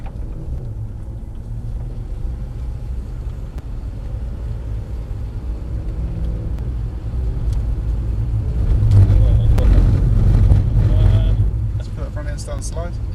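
A Mercedes-AMG E63 driven around the Mercedes-Benz World race track, its engine rumbling steadily and swelling louder as the power builds toward the end, with a person talking over the engine.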